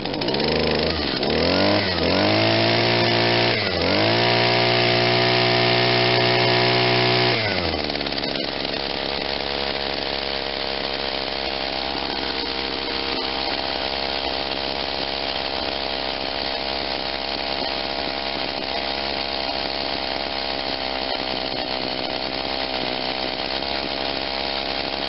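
Echo SRM-2100 string trimmer with a replaced carburetor, choke on, starting on the first pull: a loud two-stroke engine revs up and down several times for about eight seconds, then settles into a steady, slightly softer idle that runs on alone.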